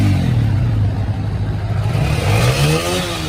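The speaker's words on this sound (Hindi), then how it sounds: "सिर्फ पहली किक मारेंगे और बाइक स्टार्ट, पहली किक पे बाइक स्टार्ट।" A motorcycle engine catches on the first kick in cold weather and runs loud and close, a steady low rumble with a rising rev toward the end.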